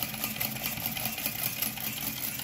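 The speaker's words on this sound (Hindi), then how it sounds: "हवा वाले पंपा के नाल इंजन यह चल रहा" A small engine runs on compressed air from a pump, a steady, fast mechanical whir and rattle that holds even throughout, close and fairly loud, with no talk.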